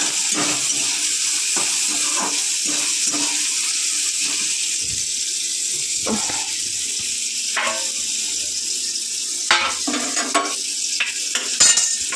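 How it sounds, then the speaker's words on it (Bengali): Eggplant fries in a pan with a steady, bright sizzle throughout, broken by occasional utensil scrapes and clinks, close and even in level. "তো বেগুনটা একটু ভেজে তুলে নেব।"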